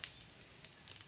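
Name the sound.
crickets chirping in a garden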